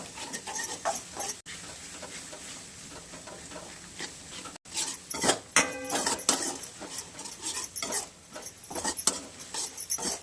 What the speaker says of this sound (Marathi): सतत हलवत राहायचं, गॅसवर हलवत राहायचं